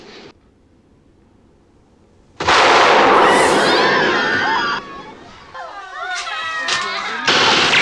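A loud gunshot burst in the 1974 film The Taking of Pelham 123, followed by chaotic crowd noise and shouting, with further sharp bangs and commotion.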